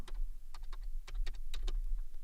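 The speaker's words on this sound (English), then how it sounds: "let's just type my program" Keys on a computer keyboard clatter in quick, uneven bursts of close, crisp taps as a program name is typed at a command prompt, with no voice.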